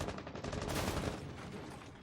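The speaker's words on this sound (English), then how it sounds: "He is hearing gunfire all around him." Gunfire crackles in a competitive college esports match, with dense overlapping shots and bursts rattling steadily for about two seconds, loud and close.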